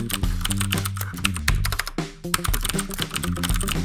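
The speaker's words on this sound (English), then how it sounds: "we might as well listen to that glorious clacking again" Rapid clacking of a mechanical keyboard fitted with DSA Granite keycaps, dense typing strokes in quick bursts with a brief pause midway, close and crisp with no talking.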